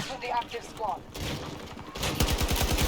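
Rapid automatic gunfire in the shooter game Battlefield 2042, with bursts of shots close by growing louder and denser toward the end while players talk over it.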